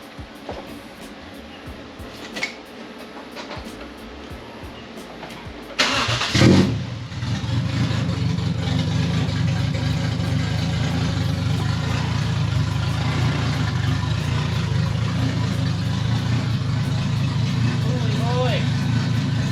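A car with no exhaust system fitted cranks and fires up with a sudden loud burst, then settles into a raw, rumbling run that stays close and loud throughout, after some quiet rustling beforehand.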